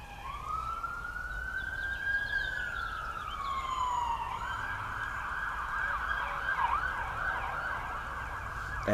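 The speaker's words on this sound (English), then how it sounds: "Ambulance." An ambulance siren wails with a long rising and falling tone, then switches to a faster warbling pattern. It sounds moderately distant and steady against low road noise.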